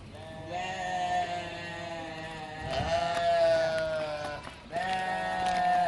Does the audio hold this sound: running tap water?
no